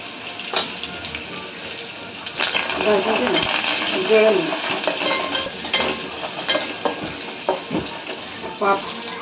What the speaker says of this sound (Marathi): कढीपत्ता जिरा आणि लसूण मोहरी हे टाकले आता भाजून घेऊया